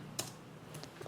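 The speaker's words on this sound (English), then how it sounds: "Now what I'm going to do is I'm going to type sudo" Computer keyboard typing in a quiet room, a few quick, close keystrokes with short gaps between them and no talking.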